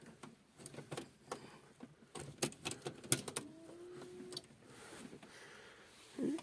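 Heater flap actuators in a VW Passat B3/B4 clicking and ticking after the ignition is switched on, a close, irregular run of sharp mechanical clicks with a brief whirring tone midway.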